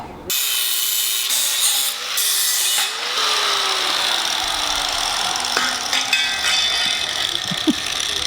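Pneumatic air tool working on a replacement engine for a 1957 Volvo Sugga, a loud continuous hiss with rising and falling whines and brief ratcheting bursts, close by and alone throughout.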